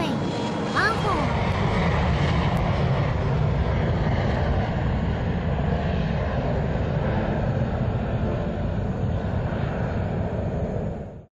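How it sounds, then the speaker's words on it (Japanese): An Embraer ERJ 170 jet takes off from runway 14, its engines giving a steady, loud roaring rumble that holds across the whole stretch before cutting off abruptly. "エンブラエル、ERJ、170、ランウェイ、14より離陸、テイクオフ"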